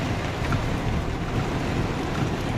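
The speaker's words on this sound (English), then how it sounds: "It's not raining as hard as it was." Rain falls steadily outside a car, heard from inside the cabin as a constant, dense hiss and rumble with no voices.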